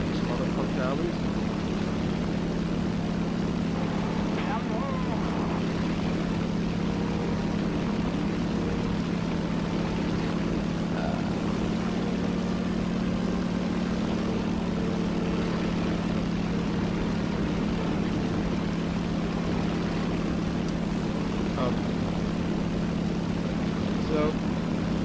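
A War Thunder warplane's engine drones steadily in flight, a continuous even hum with propeller roar that never lets up, heard alone without talk.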